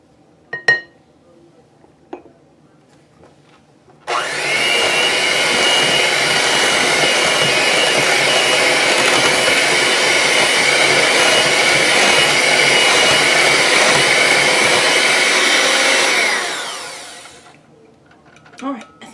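A countertop blender whirs steadily for about twelve seconds while mixing caramel apple cheesecake batter, loud and close, starting abruptly and winding down at the end, with a few faint clinks before and after.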